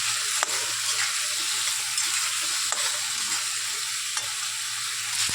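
A spice mixture with a splash of water sizzles and fries in a pan on the stove, a steady close hiss broken by a few sharp scraping stirs, with no talk.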